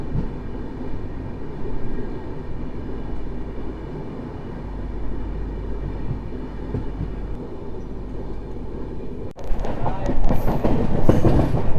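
A passenger train runs on the main line past Gulma, a small hillside village station, giving a loud continuous rumble and rattle from on board that swells into a harsher, louder clatter near the end.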